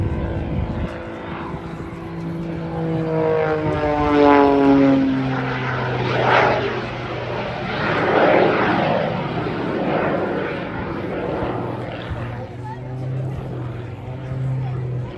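A propeller aerobatic plane with 2,200 pounds of thrust drones overhead at the Duxford Summer Air Show, its engine pitch rising and falling as it swoops past, loud and sustained throughout.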